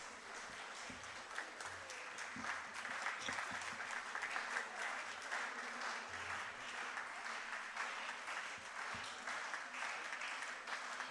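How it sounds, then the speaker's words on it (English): A medical college conference hall audience claps steadily for about eleven seconds, a continuous even patter heard from a distance and fairly quiet. "With a huge round of applause."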